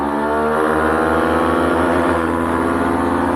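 A CFMOTO 250NK motorcycle engine revs hard and loud, its rising harmonic whine climbing steadily toward the limiter near 10,000 RPM in one continuous pull, with no voices over it.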